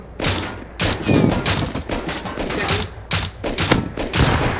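Gunfire in the video game Rust during a cargo ship raid, dense bursts of rapid shots in repeated volleys, loud and close, with several weapons firing together.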